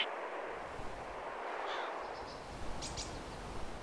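Distant gunfire from the ArmA 2 video game with the ACE mod, a few faint shots cracking over a steady windy outdoor ambience.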